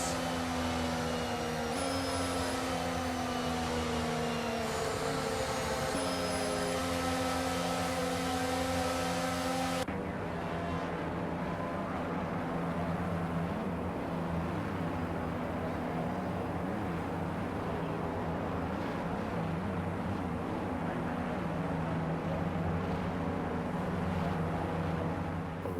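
F1 cars on the formation lap in F1 22, a steady high engine drone with a harmonic whine that cuts to a lower, rougher rumble midway, continuous and loud, with no talk.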